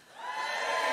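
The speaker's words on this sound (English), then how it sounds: "And give us a cheer if you're from anywhere else." An audience at the Keswick Convention 2022 cheers in a large hall, a brief rising roar of many voices that swells and holds for about a second.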